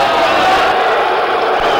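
Boxing crowd at the Ali vs Chuvalo rematch in a Vancouver coliseum, a dense, loud roar of booing voices filling the arena without pause, with a commentator's voice mixed into the din.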